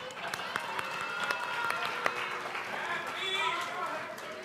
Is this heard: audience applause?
yes